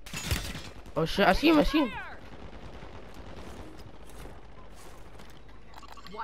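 Automatic gunfire in the Resurgence mode of a battle-royale video game rattles in quick bursts, loud and close, with excited voices talking over it before the shooting fades into background game noise.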